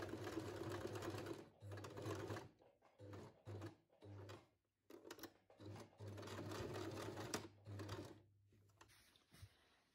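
Sewing machine stitching a sweatshirt placket, a close rhythmic mechanical hum and clatter running in several bursts with short pauses between, fairly quiet and without talk.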